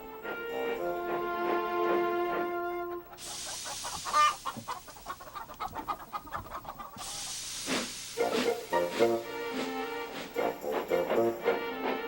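Cartoon steam locomotive sound effect for Thomas the Tank Engine, with loud rhythmic hissing steam chuffs in two bursts over a bright musical score, mixed with chicken clucks.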